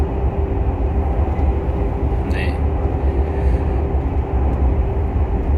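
Steady low rumble and rushing noise fill the interior of a moving train travelling after a Busan event, constant and close with a brief faint squeal partway through.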